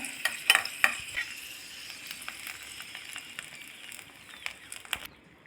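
Raisins sizzle and crackle as they fry in leftover ghee for a creamy sago payasam, with a few sharp stirring clinks early on and a steady close frying hiss that cuts off near the end.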